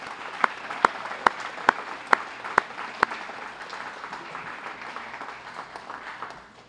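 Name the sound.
audience applause at a recognition dinner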